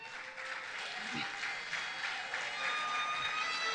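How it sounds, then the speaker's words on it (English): Crowd applause at a People's National Movement public meeting in a hall in Chaguanas, Trinidad, a steady, moderately distant wash of clapping and cheering that sustains and swells slightly over a few seconds. "that deserves a round of applause"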